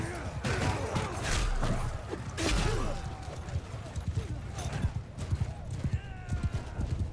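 Horse hooves clip-clopping in the medieval battle game Mount & Blade II Bannerlord, a rapid irregular patter mixed with battle noise and thuds, with someone talking over part of it.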